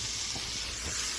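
Mushrooms sizzling in a hot pan, a continuous bright hiss that stays steady and fairly close for a brief moment.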